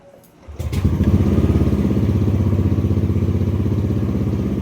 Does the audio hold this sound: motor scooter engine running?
yes